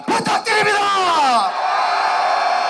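A crowd at a rally in Incheon bursts into loud cheers and shouts. Whoops and a long rising then falling yell come first, then settle into a sustained roar.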